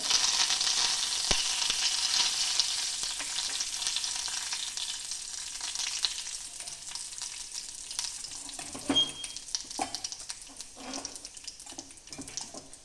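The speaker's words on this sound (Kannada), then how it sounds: "ಸಾಸಿವೆ ಬೇವಿನ ಸೊಪ್ಪು ಹಾಕುತ್ತೈತೆ" Mustard seeds and neem leaves hit hot tempering oil for a turmeric gojju from Karnataka. A loud, close hiss slowly fades into scattered crackles and pops.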